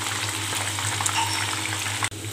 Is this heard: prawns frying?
yes